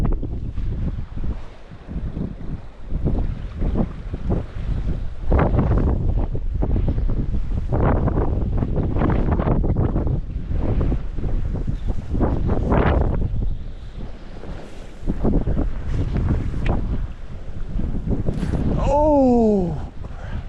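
Strong wind buffets the microphone on a Colorado river during a streamer fly fishing trip for big trout, a loud, continuous roar that gusts and swells throughout, with a brief whistling squeal near the end.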